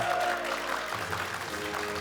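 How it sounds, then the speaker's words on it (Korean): Applause from a studio audience closing a televised Korean government interview with the education minister, a steady wash of clapping over fading background music. "여러분 다시 한번 감사의 박수 감사합니다."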